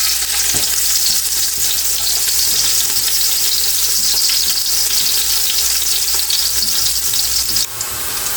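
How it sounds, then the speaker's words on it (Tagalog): Onions sauté in hot cooking oil with a loud, dense, unbroken sizzle close by, briefly dipping near the end as they are stirred. "tayo po maglalagay na ng mantika. Tayo po magigisa na. Lagyan na po natin ating sibuyas."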